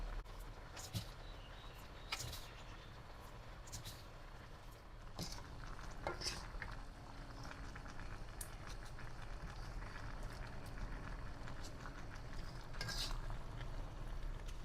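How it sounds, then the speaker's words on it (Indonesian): Boiling sugar syrup with butterfly pea flowers being stirred slowly in a pot, a soft steady bubbling hiss with faint scraping and occasional light clinks, quiet and close, with no talking. "Diaduk pelan-pelan sampai tercampur rata lagi ya"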